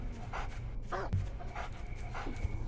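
Dog panting in a spooky horror video game, a few breathy huffs repeating in short bursts over a low, steady game-ambience hum.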